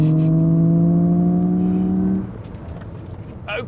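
A loud, synthetic engine-like drone with steady harmonic tones from a smart #1 BRABUS electric car's artificial engine sound hums for about two seconds, then cuts off, leaving quieter road noise and a brief rustle.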